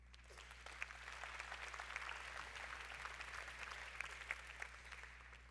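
Steady applause from a crowd at a town New Year's ceremony in Cavalaire, an even wash of clapping that continues without pause, heard at a moderate distance over a low hum.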